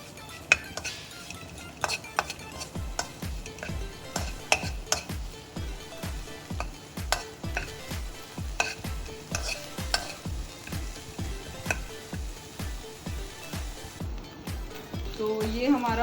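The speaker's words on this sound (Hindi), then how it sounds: "ये हमारा जो है अदरक लहसुन का पेस्ट जो है वो सौटे हो गया है" Ginger garlic paste sautéing in a hot pan with oil, a steady sizzle under rhythmic, repeated spatula strokes scraping and clinking against the metal, continuing at a regular pace throughout.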